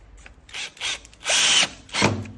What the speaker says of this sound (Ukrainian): за допомогою саморізів не забуваємо затягнути брусочок по центру ліжка